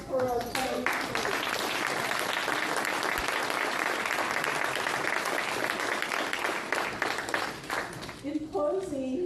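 An audience at a city State of the City address breaks into loud, sustained applause for a planning committee, dense clapping filling about eight seconds before fading as a voice returns.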